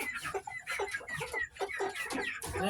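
A three-month-old Japanese Shamo stag chicken clucks in a rapid, busy series of close, fairly loud calls, with no gaps of silence between them.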